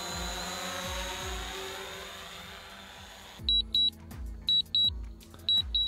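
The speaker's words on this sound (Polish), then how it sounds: "Dron zaczyna nam się mocno wznosić." A drone climbs during a return-to-home failsafe with a loud, buzzing rotor drone whose pitch sweeps and shifts. Near the end, sharp paired electronic beeps sound repeatedly over the quieter hum.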